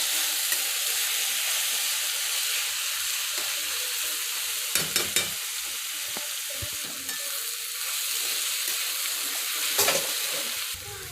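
Mixed vegetables stir-fried in a pan for Schezwan fried rice made from leftover rice, a steady loud sizzle with occasional clinks of a spatula tossing the pieces, no talking.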